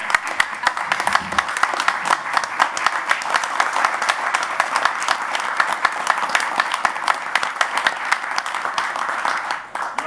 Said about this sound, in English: How about a standing